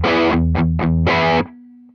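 A riff played on a rare Number 2 signature Les Paul electric guitar through a distorted amp, with four punchy chord stabs, the last held before cutting off and leaving a faint hum; close and loud with no talking.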